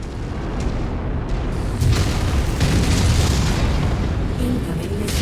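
A missile explodes in a video game, a loud sustained boom with rumbling, roaring blast noise that swells and holds for several seconds.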